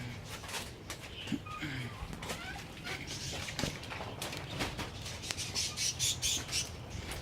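Parakeets in a bird cage squawk and chirp in a busy, noisy jumble of sharp calls that continues throughout, with a denser run of high chirps toward the end.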